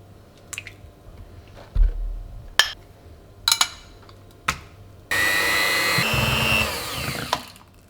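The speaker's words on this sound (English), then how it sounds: "just with the mixer." Electric mixer beating butter, icing sugar and cream cheese: a few clicks and knocks, then a loud, steady close-up whirring motor buzz that fills the last few seconds, no speech.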